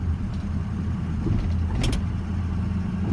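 A car engine with a ruptured oil cooler pulls under light acceleration, a steady, loud, low engine drone that holds even throughout with a brief higher whine partway through.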